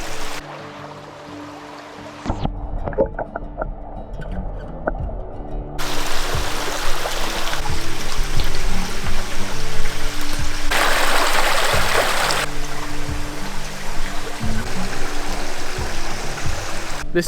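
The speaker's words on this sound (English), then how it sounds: "We're here at this little stream." A small stream crossed on a backpacking trail while descending toward the North Fork river: after a few quiet seconds with faint rustling, a steady, close rushing of flowing water takes over and continues without a break.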